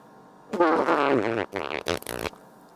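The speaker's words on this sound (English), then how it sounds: "Doo-doo fart" A fart sound effect, a prolonged wet, buzzy blast followed by a second sputtering burst with short gaps, loud and close, with no talking.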